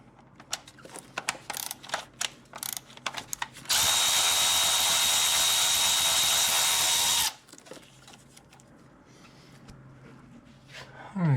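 A power tool, likely an impact driver with a 10mm socket, spins off a bolt on a Honda J-series V6 in one loud, steady burst of about three and a half seconds, framed by scattered metallic clicks and ratcheting handling noises.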